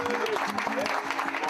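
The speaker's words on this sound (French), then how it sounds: "Un tonnerre d'applaudissements pour mon nouvel ami, Didi." Brief burst of applause for a guest of honour, dense clapping heard close under a speaking voice.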